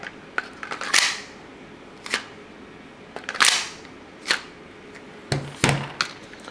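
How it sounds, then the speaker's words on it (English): Norinco NP22 pistol, a Sig-Sauer P226 clone, handled in a Blackhawk Serpa CQC holster: a series of sharp plastic clicks and snaps as the release is pressed and the gun pulled out, close and alone. "grabs a grip on the pistol, presses down on the release,"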